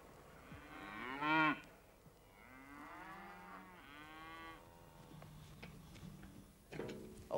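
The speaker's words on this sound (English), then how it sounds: "are some of my cattle, and they live inside during the winter in this yard." Cattle moo in a winter yard, with several long, loud, low bellows from different animals close by, separated by quieter stretches and faint clicks.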